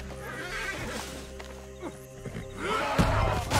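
A horse whinnies and kicks amid background game music and ambience in Red Dead Redemption 2, with a louder burst of activity near the end.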